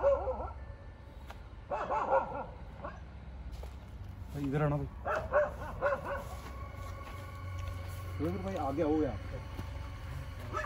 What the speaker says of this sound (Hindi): इधर से कोई कुत्ता लगातार भूके जा रहा है